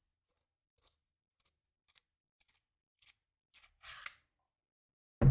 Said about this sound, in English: Obviously just unscrew the handle.